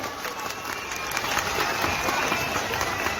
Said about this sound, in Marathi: यांच्यासाठी जोरदार टाळ्या एकदम जोरदार